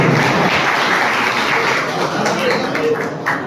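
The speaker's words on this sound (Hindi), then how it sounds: "दिल की गहराइयों से नाम लिखने वाले शायर इदरीस वासी के लिए तालियां बजाइए।" Audience applause at a Malegaon evening poetry gathering in memory of late elder poets, honoring poet Idris Wasi; dense, steady clapping fills the whole stretch at close range.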